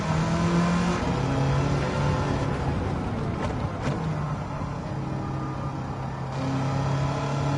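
A 1969 Corvette race car with a swapped engine in Gran Turismo 7 drones steadily through a lap, its engine note holding high and rising and falling slightly with throttle, loud and continuous with no talk.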